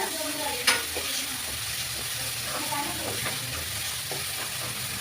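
Ginger garlic paste sautés in a pan for egg curry, a steady close sizzle broken by the scrape and clatter of stirring.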